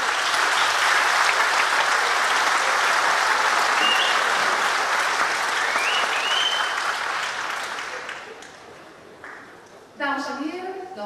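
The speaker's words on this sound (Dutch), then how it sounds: "Applaus voor Jantje en haar prima idee." A concert audience at a New Year's concert in Eelde-Paterswolde claps heartily, a dense sustained roar of hands that thins and fades after several seconds before a voice begins speaking at the end.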